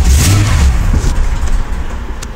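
Holden car engine idling roughly and unevenly while cold, in need of a tune-up; a loud, close low rumble with uneven surges that settles slightly toward the end.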